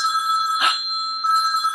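A telephone rings with a bright electronic bell tone, a short burst, a brief gap, then ringing again, loud and alone.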